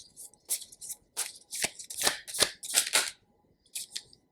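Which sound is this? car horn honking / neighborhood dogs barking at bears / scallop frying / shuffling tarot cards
shuffling tarot cards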